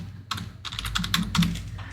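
Quick bursts of keystrokes on a computer keyboard, a short run of close, crisp clicks entering text, heard alone without talk.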